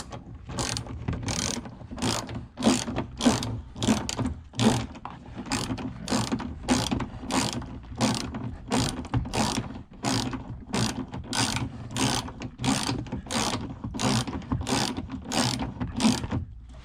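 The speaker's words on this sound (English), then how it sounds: "Take our 14mm socket wrench, put our seat belt back into place." A 14mm socket ratchet wrench clicks in quick, steady bursts while tightening a seat belt bolt on a 2015+ Honda Fit, the close ratcheting repeating evenly with no voices.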